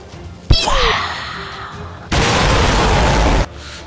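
Bomb explosions in a toy-gun battle scene: a sharp pop comes first, then a long, loud booming blast that cuts off abruptly.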